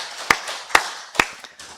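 A church congregation claps in glory to God during a Sunday worship service: three crisp, evenly spaced claps ring out close by, followed by a softer, scattered tap.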